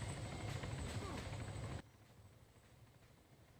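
A military helicopter in the combat game ArmA III thrums with a steady rotor drone and high whine, then abruptly drops to a muffled, quieter hum partway through.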